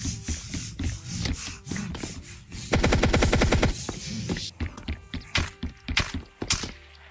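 Gunfire in the Roblox-style survival shooter Apocalypse Rising 2: a close, rapid automatic burst of about a second stands out amid scattered thumps and shots, with several sharper single reports afterward.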